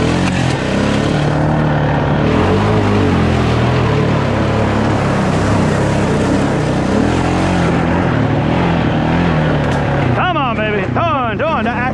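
Honda Rancher 420 ATV engine running hard in second gear, a loud steady droning roar that holds for most of the ride before sharp shifting whines near the end.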